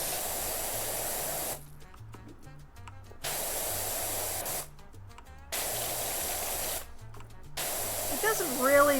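Pressure washer spray in PowerWash Simulator 2 rinsing soap off a surface: a loud steady hiss that cuts in and out in long bursts, with soft game music and blips playing beneath during the pauses.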